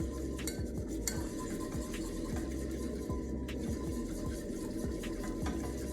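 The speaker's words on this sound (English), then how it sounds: "with a little whisk, we're just going to stir gently" A small whisk stirs a flour paste in a pan for burger buns, producing a steady rhythmic scraping and clicking with a soft sizzle beneath, close and fairly quiet.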